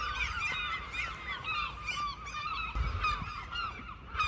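A large flock of geese honking outdoors in a Scottish winter, many overlapping calls repeating continuously at moderate distance, with no talking.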